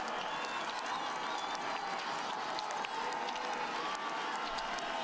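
A crowd cheers and claps steadily at the finish line of a women's 15km cross-country ski race at the Sochi 2014 Winter Paralympics, a constant wash of noise heard from some distance.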